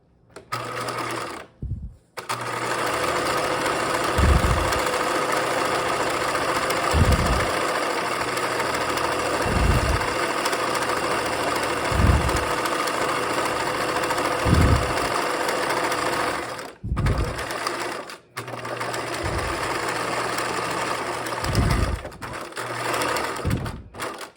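Sewing machine topstitching the long sides of backpack straps and grab handle, a loud, steady mechanical whirring run broken by short pauses and regular low thumps as the fabric is repositioned.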